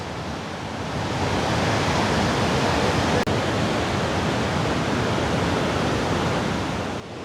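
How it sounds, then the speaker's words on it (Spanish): Upper Falls, a tall waterfall in Banff in the Canadian Rockies, heard up close as a loud, dense, steady roar of rushing and crashing water that fills the whole stretch without voices. "Es muy alta esta cascada. Miren qué linda las Upper Falls."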